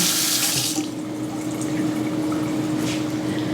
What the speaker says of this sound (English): Rinsing off the spoon.